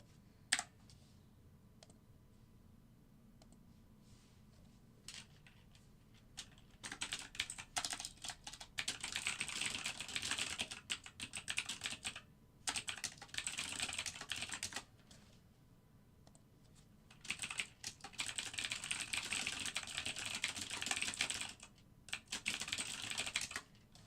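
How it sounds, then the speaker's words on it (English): Fast bursts of clattering computer-keyboard typing come in long runs with short pauses between them, close and fairly quiet against a low room hum. "Can you tell I'm typing in almost capital letters?"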